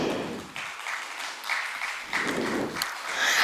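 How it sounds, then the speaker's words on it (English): Audience applause for an official at an e-governance event in a hall, moderate clapping swelling and easing in waves, somewhat distant, with no speech over it. "Please give him a big round of applause."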